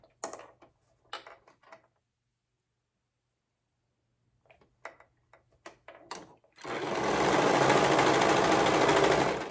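A few faint handling clicks and taps lead into a loud, steady whir of a sewing machine stitching garment seams for the last few seconds.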